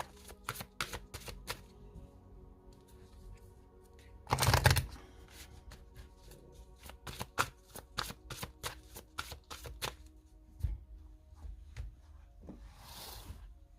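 Tarot cards shuffled and drawn close up, a quick series of crisp card snaps and taps, with a louder riffling burst partway through and quiet pauses between clicks.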